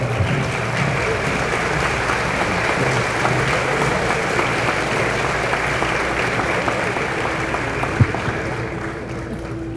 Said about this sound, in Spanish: Así todos van a querer ser últimos, ¿eh?, por los aplausos abrumadores.